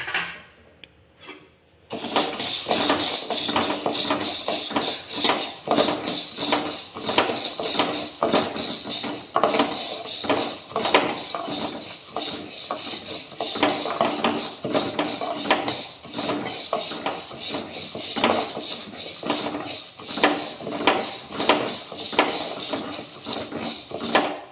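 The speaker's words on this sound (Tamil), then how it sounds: "அதை வறுத்து எடுத்துக்கலாம்" Toor dal roasted dry in a pan gives a steady, dense rattling and scraping that runs continuously after a brief quiet start, close and fairly loud, with no talking.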